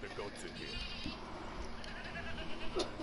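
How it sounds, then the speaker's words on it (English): Goats bleat in the video game Payday 3, a few short, fairly faint bleats scattered across the stretch amid background game noise and low chatter. "Let's get the goats in here."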